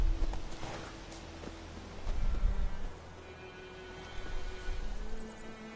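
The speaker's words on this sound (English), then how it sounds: "There's horsey." Horse hooves clip-clop at a steady walking pace in The Witcher 3 video game, moderately loud, with a low background hum and the rhythm fading in and out.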